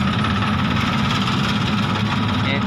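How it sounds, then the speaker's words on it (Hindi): A small tractor engine towing a generator along a highway at night drones steadily up close, a loud, continuous low chugging rumble. "ये देखिए छोटे वाले ट्रैक्टर से ले जा रहे हैं जनरेटर को"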